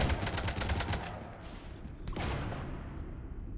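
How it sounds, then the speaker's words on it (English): Gunfire in the Mass Effect video game as shots hit a ship: a rapid volley of loud bursts in the first second, then a quieter rattle and a final shot before it fades out. "You want to stop shooting up my ship?"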